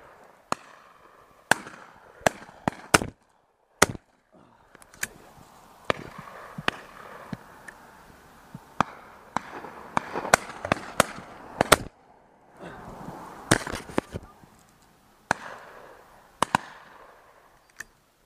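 Sharp shotgun reports crack out at a driven partridge shoot in Wiltshire, dozens of loud single and paired shots scattered irregularly, some near and some farther off, over a faint outdoor background.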